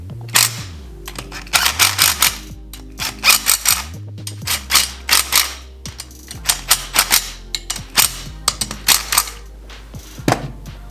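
Valve cover bolts being threaded by hand into a Honda GXV530 engine give light metallic clicks and ticks in irregular clusters, close and fairly loud over a low steady hum, with no speech.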